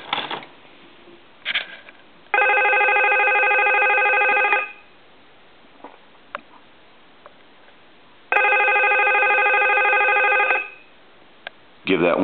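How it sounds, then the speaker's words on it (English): A Snoopy novelty telephone under repair rings through its piezo buzzer, not a bell, in two long electronic bursts of about two seconds each, separated by quiet gaps holding faint clicks and handling noise. "We're going to go ahead and ring him, and it's a piezo buzzer."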